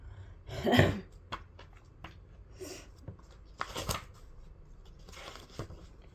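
Tarot cards are drawn and handled close up during a reading, giving soft papery rustles and snaps in several short bursts, one sharper flick near the start, with no talking.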